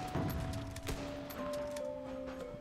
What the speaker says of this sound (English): if you hold down the trigger, you can just keep shooting. Even with a sniper